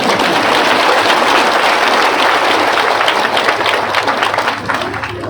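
A large audience claps loudly and continuously at a Hindu religious discourse, a dense wall of applause that holds steady for several seconds before easing slightly toward the end.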